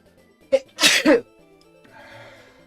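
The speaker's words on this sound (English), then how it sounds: "Definitely felt like another sneeze was about to come on for a second there." A single loud, close sneeze with a short sharp intake before the main burst, then quiet room tone; no talking.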